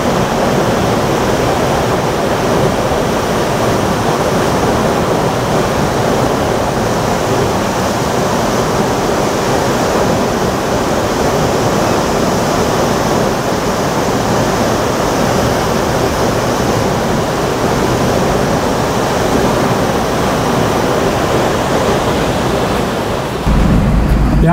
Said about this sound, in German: Aber das ist jetzt der Wasserfall, den ich mir ansehen wollte. Er ist nicht schlecht, da kommt ganz schön viel Wasser runter.